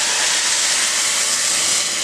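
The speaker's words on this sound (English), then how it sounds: "we're going to take this stock, which is almost to the boil, and we're going to put it in there" Hot stock, nearly at the boil, hits hot rice in a pan with a loud, steady hiss that holds at full strength without a break for about two seconds.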